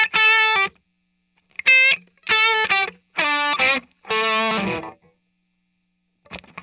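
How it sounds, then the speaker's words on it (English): An electric guitar lead tone with its delay pedal and reverb switched off plays a handful of dry, sustained distorted notes in short separated phrases, each cutting off cleanly into silence. "when I turn the carbon copy off and I have just my lead tone, and I turn my reverb off as well"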